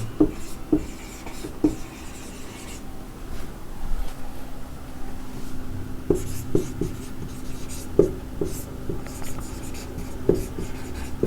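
Chalk or marker writing on a board during a physics lesson, with quick repeated tapping strokes and longer scratchy scribbles spread over several seconds against faint room noise, with no talking.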